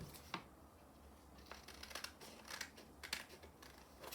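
Scissors snip through paper along drawn lines, a series of soft, irregular crisp cuts close by and fairly quiet, with no talking.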